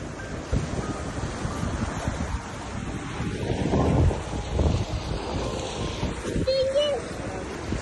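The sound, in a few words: sea waves at the Red Sea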